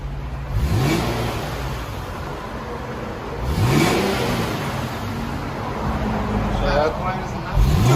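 A 2014 Infiniti Q60 AWD sport with its 3.7L V6 and bone-stock exhaust with two resonators and two mufflers revs repeatedly, each rise and fall fairly subdued. A voice talks over the engine.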